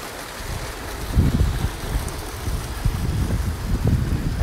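Small garden waterfall at Tulsa Botanic Gardens, a steady rushing splash heard fairly close, with outdoor wind rumble and bursts of low buffeting throughout.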